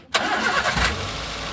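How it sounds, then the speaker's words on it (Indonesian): A Daihatsu Gran Max engine cranks briefly and catches after a water pump replacement, then settles into a steady close idle, heard alone. "Kita coba starter setelah pemasangan water pump."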